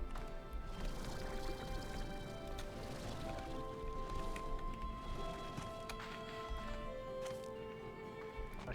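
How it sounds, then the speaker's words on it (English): Steady rain in the video game Slime Rancher 2 patters continuously on surfaces, a dense hiss with scattered drops and tonal game sounds running underneath at an even level. "when it's raining, it's hard to hear"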